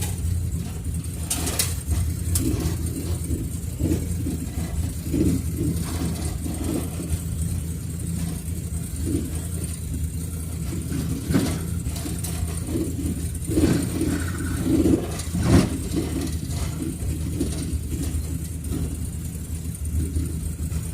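A Ford Fairlane, its suspension newly rebuilt, drives over rough, unmaintained dirt county roads, giving a continuous rumbling engine drone under rattling, clunking bumps and knocks from the body, steady and close throughout.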